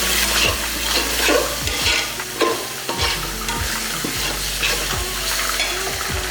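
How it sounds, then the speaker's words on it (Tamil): Two small tomatoes sautéing in a pan for mutton pulao, a steady loud sizzle broken by repeated scrapes and stirs of a spoon against the pan, close up and without talk. "தக்காளியை ரொம்ப நேரம் வதக்கிடக்கூடாது"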